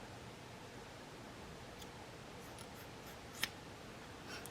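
Scissors cutting a boy's mohawk during a basic haircut, a faint, crisp single snip standing out briefly against steady background hiss.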